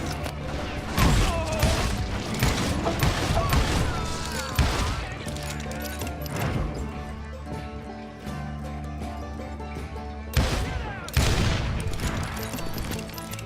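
Rapid bursts of gunfire crackle in clusters over a backdrop of game music and effects in Call of Juarez: Gunslinger, loud and close, with short pauses between volleys.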